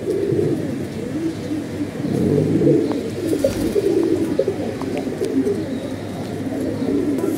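A flock of paired pigeons, including a red-eyed hen, keeps up continuous low cooing nearby, a dense murmuring bed of calls lasting throughout.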